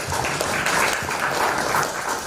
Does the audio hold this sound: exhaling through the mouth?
no